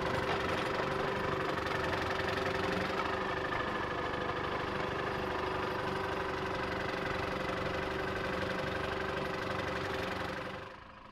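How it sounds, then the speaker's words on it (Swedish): A Munktells 22 tracked tractor engine runs steadily at close range with a constant knocking idle-like throb, loud and alone, fading slightly at the very end. "Med sig på fältet har Mats kompisen Jan som kör en Munktells 22."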